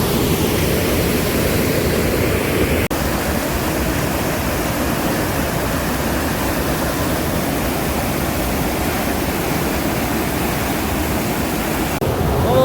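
Floodwater from the monsoon-swollen Panam river pours over a dam, a loud, unbroken broadband roar of falling water that stays close and constant from start to finish.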